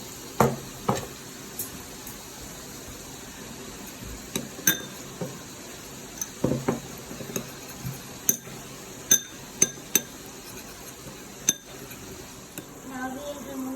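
French fries being tossed with red chili powder and salt in a metal bowl or pan, giving scattered light clinks and scraping taps at an irregular pace, fairly quiet and close.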